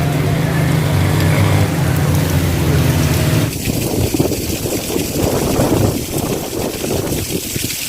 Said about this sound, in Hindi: पिछले 2 घंटे से मुसलसल बारिश हो रही है।